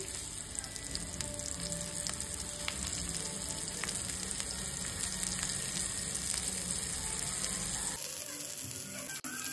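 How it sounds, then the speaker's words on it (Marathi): Stuffed prawns fry in hot oil in a pan, giving a continuous close sizzle with occasional small crackles and scrapes, steady throughout. "ते गरम झाल्यावरती आपण जे कोलंब्या रेडी आहेत आपल्या त्या आपण तळत टाकायच्या।"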